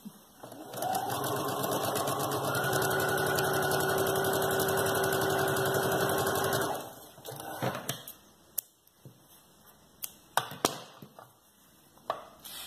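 A domestic sewing machine with a standard presser foot runs a straight seam on fabric for a baby's high-waist diaper cover, a steady continuous whir for several seconds that then stops, followed by brief clicks and handling noises.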